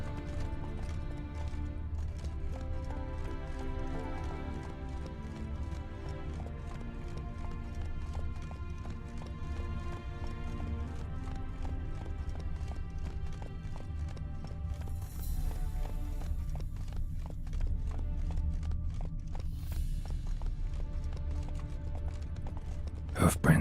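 Horse galloping in the video game The Witcher 3, a quick continuous clip-clop of hooves running throughout with a game soundtrack underneath, steady and close, with brief louder whooshes near the middle and end.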